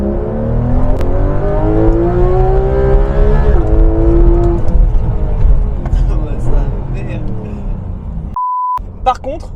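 A Porsche 911 GT3 RS accelerating hard on a flat road, its engine rising through the revs in loud, continuous harmonic sweeps that ease off toward the end, followed by a short electronic beep.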